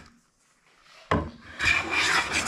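A hand plane takes passes across a wooden board for a round table, a sharp knock of the plane setting down followed by a rasping, scraping stroke of the blade shaving the wood, close and clear, no voices.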